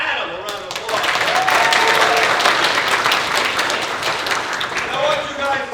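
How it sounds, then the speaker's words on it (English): A crowd applauds a volunteer named Adam at a stage-combat comedy show, a full burst of clapping that swells after a quiet start and holds steady, with faint voices mixed in. "Give Adam a round of applause."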